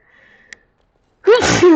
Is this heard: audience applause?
no